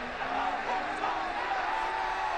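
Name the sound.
stadium crowd cheering in a football video game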